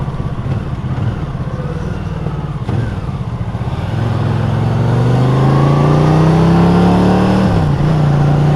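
A motorcycle accelerates hard toward traffic lights on a ride out to Ladybower Reservoir. The engine rises in a steady climbing whine, dips briefly as the gear changes, then keeps pulling. It sounds close and loud, carried over continuous wind rush.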